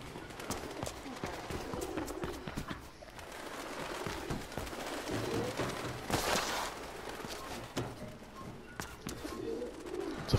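Pigeons coo repeatedly in Mirror's Edge Catalyst, low burbling calls mixed with fluttering wings and scattered footsteps and clatter in a busy rooftop soundscape, with brief bursts of noise in between.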